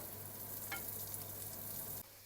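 Garlic frying in a little oil and being stirred in a pan for Ukrainian red borscht: a steady, quiet sizzle with a brief scrape of stirring, no talking, cutting off just before the end.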